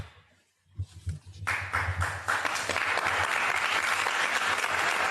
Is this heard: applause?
yes